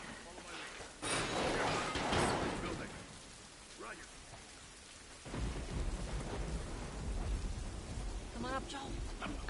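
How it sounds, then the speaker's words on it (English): A thunderstorm in Dallas: rolling thunder rumbles loudly amid steady heavy rain, a big crash early on, then the downpour swells again after a brief lull, with faint voices underneath. "I can feel a fucking thunderstorm."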